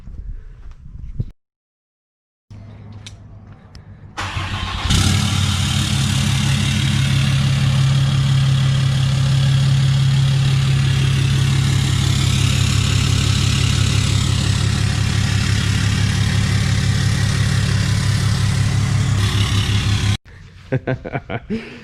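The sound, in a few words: SUV engine with cut exhaust idling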